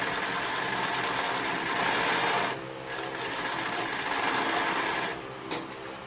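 A Consew 227R-2 cylinder-arm walking-foot industrial sewing machine stitches through thick layers, its loud, close, rapid motor whir broken by brief pauses and slight speed changes.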